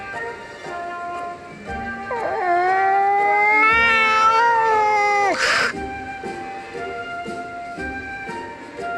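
A cat meows in the Nintendo 3DS game Bravely Second: End Layer: one long, drawn-out, rising-and-falling cry that stands out clearly over soft game background music.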